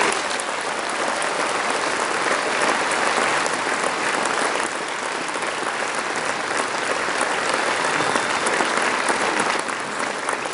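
An audience applauds after a school music school concert in Valognes, a dense, steady wash of clapping from many hands that holds at full strength throughout, loud and near, with no voices.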